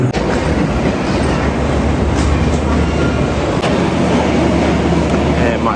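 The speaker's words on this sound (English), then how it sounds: "and my train is here." A train pulls into a station, its steady low rumble and rolling wheel clatter loud and continuous throughout with no break.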